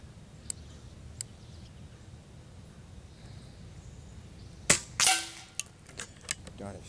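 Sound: Air Venturi Avenger PCP air rifle shots

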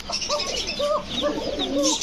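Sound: pigeon cooing

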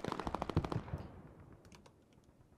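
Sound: machine gun fire in video game Hell Let Loose

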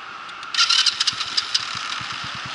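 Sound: motorcycle engine starting

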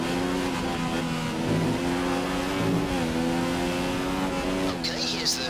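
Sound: race car accelerating, from video game F1 2017 at Hungaroring

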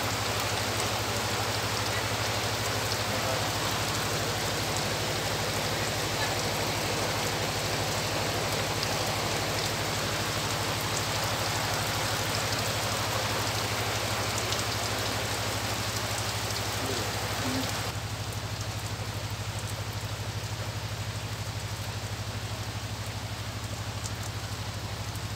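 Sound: rain falling on the roof above

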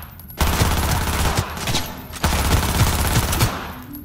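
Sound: gunfire in video game Cyberpunk 2077

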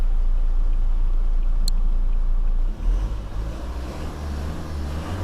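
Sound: pickup truck engine idling

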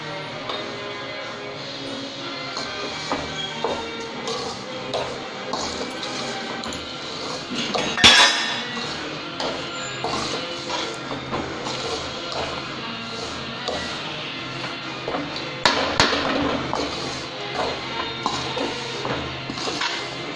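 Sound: stirring ragi health powder with sugar in a pan

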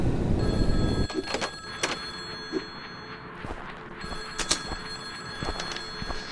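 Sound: telephone ringing in the video game Bear Haven

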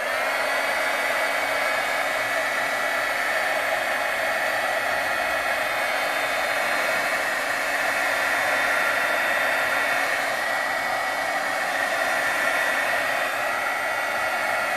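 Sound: heat gun blowing on acrylic paint

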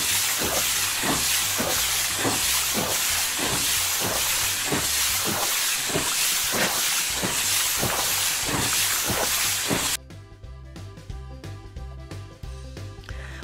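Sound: hissing of toy fireman putting out a fire

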